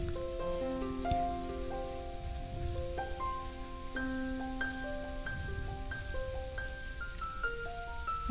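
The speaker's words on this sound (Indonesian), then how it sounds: "Lanjut kita goreng hingga matang atau kuning keemasan." Risoles, chicken and vegetable mayo rolls, frying in hot oil until golden, a steady close crackling sizzle with tonal kitchen sounds over it.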